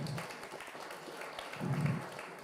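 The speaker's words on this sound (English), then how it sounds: "give them a round of applause" Applause from an audience at a local community event for a business sponsor, a steady patter of clapping at moderate distance that swells slightly near the end.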